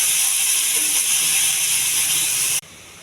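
Cut sweet potato pieces sizzle in a hot pan, a loud steady hiss of frying that runs unbroken for over two seconds, then drops away abruptly to near silence.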